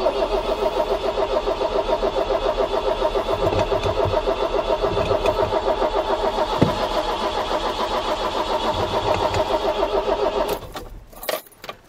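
An Iveco 35-8 diesel engine cranking steadily for about ten seconds with a continuous rhythmic starter churn, loud and close, never catching before the starter cuts off at the end.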